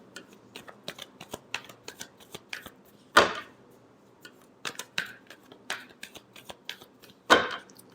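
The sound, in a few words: shuffling tarot cards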